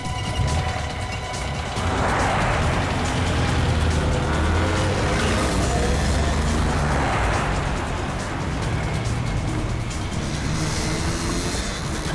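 A car speeds along in a chase, engine and road noise roaring steadily and loud, with two whooshing swells as vehicles pass close by.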